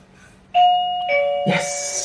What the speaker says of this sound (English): Just teaching him how to ring the bell when he wants to go outside.